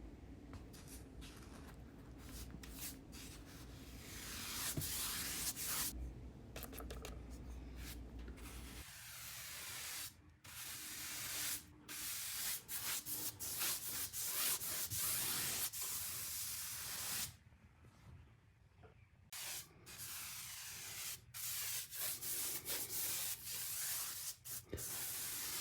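A paint brush is stroked along a wall just above the baseboard, giving a close, soft, hissing swish that comes in long continuous passes broken by short pauses.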